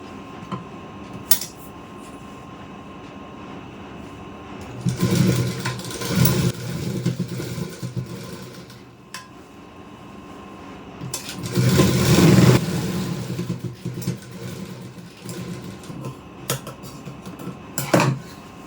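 A sewing machine stitching the hem of a Punjabi dress, its motor whirring in two sustained runs of a few seconds each, separated by quieter pauses and small clicks.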